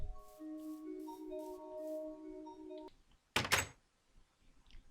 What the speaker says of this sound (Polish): Drzwi się otwierają.